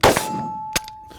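A single bright metallic clang rings out from a bullet striking a steel target, sustaining a long pitched ring, with a second sharper impact clang following shortly after and a faint third tap trailing off.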